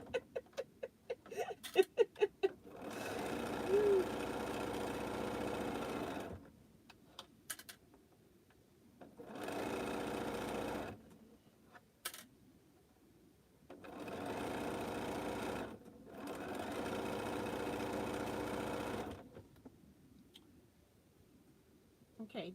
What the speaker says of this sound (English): these two pieces now can get sewn